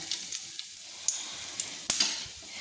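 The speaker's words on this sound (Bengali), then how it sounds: "তো আমি দিয়ে দিলাম ফোড়নের জন্য, দিয়ে দিলাম আমি কালো জিরে, দিয়ে দিলাম আমি 3টে এলাচ" Nigella seeds and three lightly crushed cardamom pods hit hot oil for tempering, giving a bright crackling sizzle with sharp pops, one loud burst near the end, heard alone and close.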